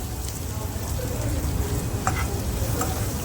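Chopped onions with a pinch of salt fry in a hot pan, giving a steady, close sizzle with faint stirring scrapes throughout.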